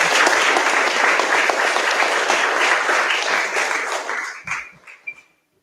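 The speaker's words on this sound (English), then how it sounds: "Give her another round of applause" A crowd at an activism event in Central Texas gives a loud, dense round of applause that gradually thins and dies away into a few last claps and near silence.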